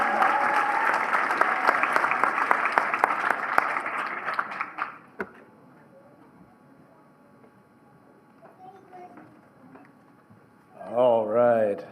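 Applause for adult education diploma recipients at a recognition ceremony, broad crowd clapping for about five seconds that fades into quiet room tone, then a voice speaks near the end.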